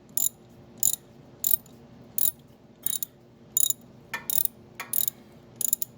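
A ratchet tightening the steering shaft during a bearing upgrade on a G-body car gives short bursts of rapid clicking, about ten separate pulls spaced evenly, close and crisp against a quiet background.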